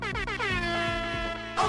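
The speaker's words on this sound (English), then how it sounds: "Let me drop the air horn for all y'all lovely folks in here" A loud air horn sound effect blares in a rapid series of stuttering honks, close and harsh, ending on a final blast.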